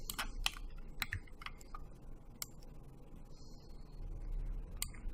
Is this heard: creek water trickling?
no